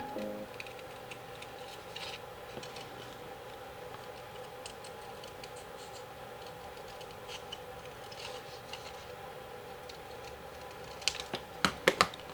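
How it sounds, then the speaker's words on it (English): Quiet, irregular snips and clicks of scissors cutting a thin fishing lure stencil, sparse at first and growing sharper and more frequent near the end. "Just going to go in with the scissors and cut the highest point."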